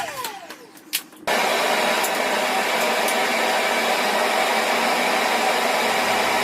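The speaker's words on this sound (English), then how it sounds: "this is the jointer jointing the side edge of the billet" A jointer planing the side edge of a wood billet starts abruptly after a quieter moment, then keeps up a loud, dense, steady roaring hiss up close until the end.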